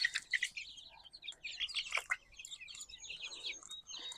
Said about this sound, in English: A lot of roosters, it looks like. I mean, there are hens.